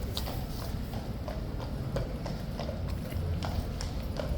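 Horses' hooves clip-clop steadily on the ground at Horse Guards in London during the King's Guard inspection, a regular rhythm of close, clear strikes over constant outdoor crowd murmur.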